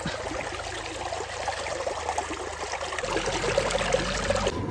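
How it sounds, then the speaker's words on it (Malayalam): Water is poured over a hot vehicle engine at a roadside stop to cool it, a steady trickling, splashing stream that grows fuller partway through, close by with a low background hum. "ഇടയ്ക്കിടയ്ക്ക് കുറച്ച് വെള്ളം ഇഞ്ചിനിൽ ഒഴിച്ചിട്ട് ഇഞ്ചിൻ തണുപ്പിക്കലാണ് പരിപാടി"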